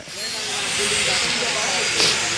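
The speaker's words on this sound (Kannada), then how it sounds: "ಇದನ್ನ ವೆಲ್ಡ್ ಮಾಡ್ಕೊತಾರೆ ನೋಡಿ." Welding an end cap onto a Yamaha RXZ motorcycle exhaust silencer: a steady, close hiss with a crackling, sizzling edge fills the clip, rising slightly midway and flaring briefly near the end.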